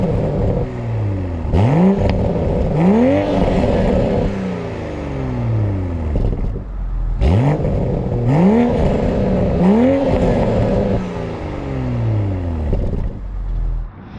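A 2021 Toyota GR Supra 3.0 Premium exhaust revved repeatedly, loud and close, with rising blips and falling decays repeating in two similar sequences over a rumbling idle.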